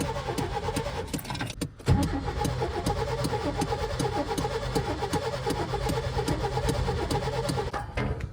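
Chevy OBS truck engine primed with starting fluid, cranking briefly, then catching and running with a steady rough idle, loud and close throughout without speech.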